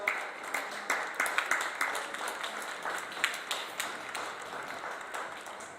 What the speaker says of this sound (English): Give Citizens another round of applause.